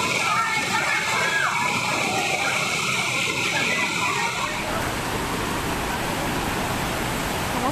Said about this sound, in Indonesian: Sebuah rumah di Desa Mawomba, Tojo, Una-Una, Sulawesi Tengah hanyut terbawa banjir bandang dari Sungai Mayomba.